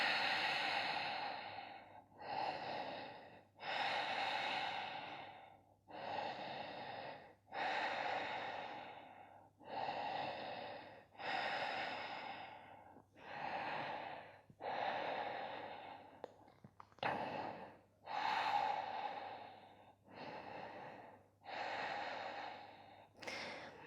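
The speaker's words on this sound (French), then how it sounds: "Respiration Ujjayi, toujours inspire et expire." Slow, deep Ujjayi breaths during a vinyasa yoga session, about a dozen long, audible inhales and exhales in a steady rhythm, close and breathy with brief pauses between them.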